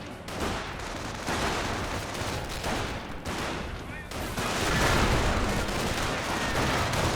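Battle gunfire in the World War II strategy game Company of Heroes, a Panzer Elite versus US match, with dense bursts of rapid rifle and machine-gun fire, close and loud, swelling into a heavier sustained barrage near the end.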